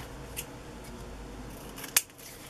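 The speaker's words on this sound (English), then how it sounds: "Sorry, the scissors are loud on the glass mat." A few quiet snips of scissors, then one sharp, louder cut clacking against a glass cutting mat, with near silence between.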